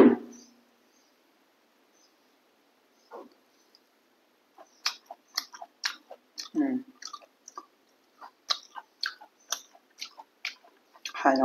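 Close, crisp chewing and mouth sounds from someone eating rice with red lentil dal and onion, coming in irregular short bursts after a quiet start, with no talking.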